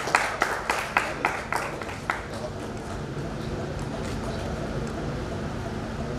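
Scattered claps open a welcome for an artist and sculptor at a press meet, a few sharp bursts in the first two seconds before the sound settles into a steady crowd murmur and background noise.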